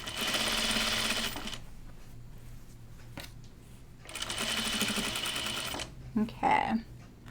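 Sewing machine stitching a garment seam, running in two steady bursts of about two seconds each separated by a pause, then brief handling sounds and a short voice at the end.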